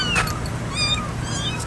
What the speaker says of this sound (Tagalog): Ang daming pusa dito guys.